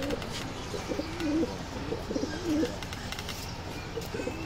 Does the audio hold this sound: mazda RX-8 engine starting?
no